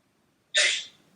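A single sharp, loud sneeze bursts out close by during a quiet yoga class, then trails off into silence.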